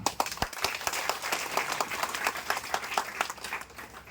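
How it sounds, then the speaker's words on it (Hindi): Audience applause welcoming a booth in-charge at a village public gathering in Rasdi, Ghosi, Mau, a dense run of claps with sharp individual hits throughout, moderately loud and continuous with no talk. "जोरदार ताली बजा के स्वागत करिए"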